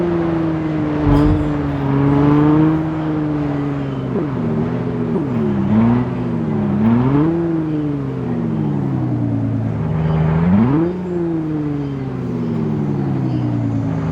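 An off-road car's engine in the video game Car Parking Multiplayer drones loudly and continuously, repeatedly revving up and easing back down. The pitch rises and falls throughout, with no other sound on top.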